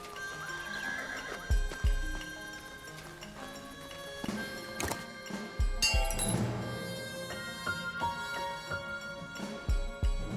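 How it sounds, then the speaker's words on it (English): A horse whinnies in the video game Desperados III while hooves clop and thud in an uneven rhythm, with clinking sounds mixed in, fairly close. "I hate horses, Billy."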